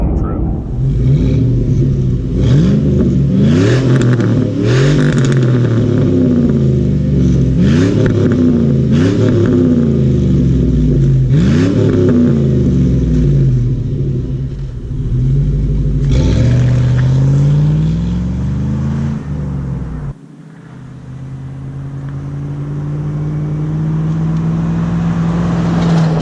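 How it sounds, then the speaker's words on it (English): A lifted Chevrolet Avalanche with an MBRP cat-back exhaust drives along, its exhaust rising and falling through repeated accelerations and gear shifts, a loud close rumble that settles into a steadier drone near the end. "that's the MBRP exhaust on my lifted Avalanche"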